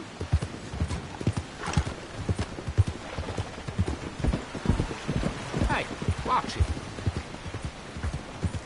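Horse hooves clip-clopping in a steady, uneven rhythm in the video game Red Dead Redemption 2, close and prominent, with a whinny, light rain and a voice calling out over it.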